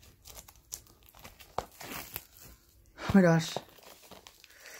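Plastic wrapping is torn and crinkled off a mailed package in a short, close rustling burst, with a person talking around it.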